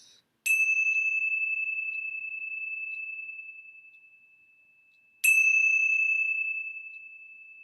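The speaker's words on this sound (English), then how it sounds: "let's begin our time together with the ringing of the bells" A bell is struck twice, several seconds apart, each ring bright and clear with a long, slowly fading resonant tone in an otherwise silent room.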